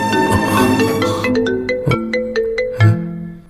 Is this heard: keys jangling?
no